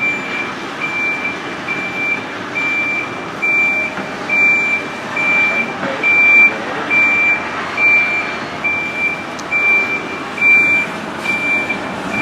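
A SIFA safety button warning on a moving train: a steady series of short, even electronic beeps, fairly loud, repeating over a continuous rumbling run along the rails, with no voices.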